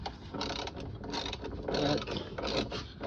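A hand ratchet tightening the 14 mm rear shock bolts on a 2004 Honda Pilot, giving rapid repeated clicking in quick bursts, close and fairly loud, with no talk.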